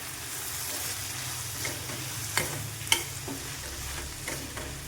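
A spoon stirs roasted sesame and peanut powder through a pan of pumpkin curry, giving a soft steady scraping with a faint sizzle, punctuated by two sharper clicks of the utensil against the pan.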